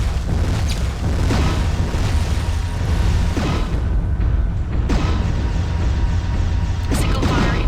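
Explosions boom in MechWarrior 3 as a giant mech blows up a target, heavy low rumbling blasts rolling continuously with sharp bursts near 1, 5 and 7 seconds over constant mechanical battle noise.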